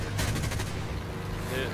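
The guns of an F7F-1 plane in War Thunder fire a short, rapid burst of pulsed shots over a loud engine drone.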